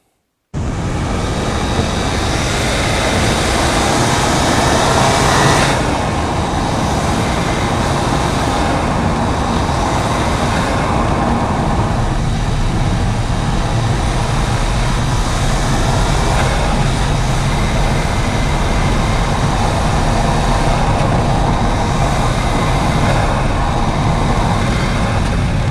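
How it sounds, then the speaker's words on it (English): Alfa Romeo Giulietta QV engine running with its factory airbox, a steady, loud broadband drone of engine and road noise that continues evenly for about 25 seconds, with no talking. "First, we'll see how the car sounds with the factory airbox in place."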